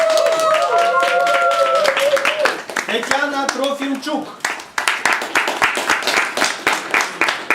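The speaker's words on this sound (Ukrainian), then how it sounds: "Аплодисменти не вщухають." Applause carries on at a certificate presentation ceremony in Vinnytsia: dense, steady clapping from a crowd, briefly thinning while a presenter announces a name, then rising again.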